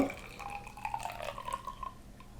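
Water overflowing and dripping in a classroom Archimedes buoyancy experiment: a soft trickle with small dripping plinks and a gentle liquid gurgle, close and quiet, with no voices over it.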